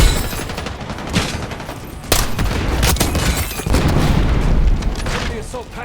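An assault pack blows up in Black Ops 6 with a loud booming burst amid dense rattling gunfire, the explosive crack near the two-second mark standing out over sustained heavy noise.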